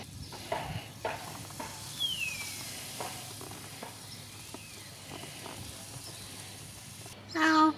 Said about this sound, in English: now let's put some garlic and lime on the shrimps, on the grill